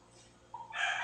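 A chicken newly brought from Negros, one of a small backyard flock of hens and a rooster, gives a short, faint call that swells at the end, with no talk.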